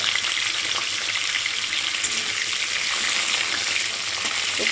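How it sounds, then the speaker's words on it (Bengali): Cauliflower frying in hot oil in a wok, a dense, even sizzle heard up close and loud, continuous without pause or talk. "এইবার আমি কপিটা ভেজে নেব"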